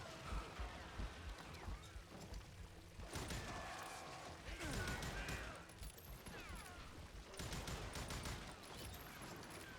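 Bursts of gunfire crackle in a Wild West video game, scattered shots and rapid volleys in clusters with quieter gaps between them, set against a busy background.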